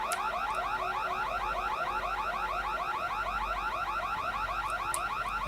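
Alarm in the video game The Secret World, a loud rapidly warbling siren cycling continuously and evenly throughout, close and alone with no speech.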